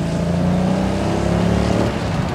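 A Marcos Mantara, a hand-built British sports car, accelerates hard with its V8 engine, giving a loud, close, sustained rumbling roar with a rising tone and no speech.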